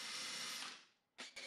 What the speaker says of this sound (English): I'm using a self-centering drill bit to drill the pilot holes.